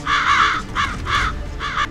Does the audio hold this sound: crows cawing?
yes